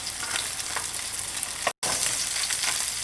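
Striped bass fillets sear skin side down in a hot pan, giving a loud, steady frying hiss with light crackles and a brief dropout partway through.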